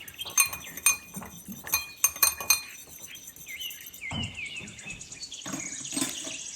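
Oil and room-temperature milk are whisked into vanilla sponge cake batter in a glass bowl, the utensil ticking and clinking against the rim in quick runs, then softer wet stirring, close and without talk.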